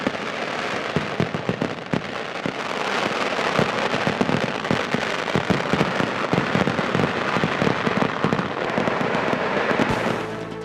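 Dense crackling bursts and sharp bangs from the Thrissur Pooram sample fireworks display, a festival event, rattling continuously and loudly through the whole stretch with no talking.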